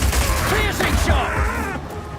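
Piercing Shot attack in the video game Path of Exile 2, a short burst of sharp, crashing impacts and rumbling low booms lasting about two seconds, loud and dense with game effects layered together.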